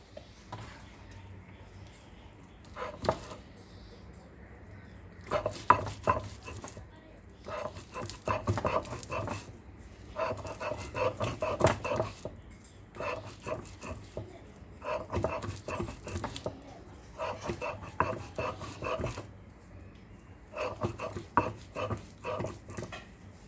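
Fried jackfruit seeds being ground by hand for a prawn mash, making rhythmic bursts of coarse scraping strokes, close and moderately loud, repeated in quick runs with short pauses between them.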